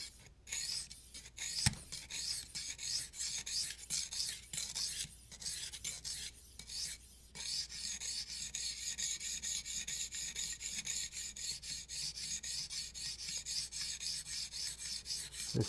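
A knife blade being sharpened on a guided sharpening system, with a close, quiet rasping scrape repeated in quick even strokes throughout, briefly pausing a few times.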